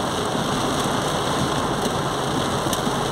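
Heavy, widespread rain in Lapão, Bahia pours down in a dense, continuous roar, loud and close, with no break throughout.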